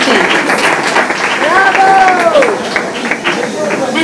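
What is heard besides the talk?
audience round of applause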